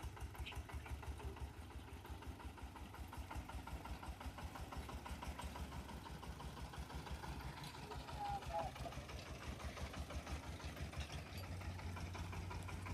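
A tractor engine idles at a steady low rumble with an even chugging pulse, heard from a moderate distance, while people talk intermittently over it.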